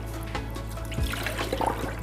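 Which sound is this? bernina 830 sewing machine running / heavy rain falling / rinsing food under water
rinsing food under water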